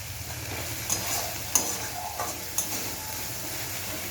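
Spice paste of ground coriander, cumin and chili stir-fried in a pan for prawn malai curry, with a steady low sizzle and a few sharp spatula knocks against the pan, close and alone.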